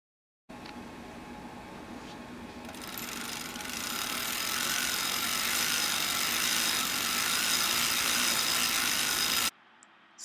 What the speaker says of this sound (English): now the machine can be cranked and it's back to knitting plain single feed jersey material.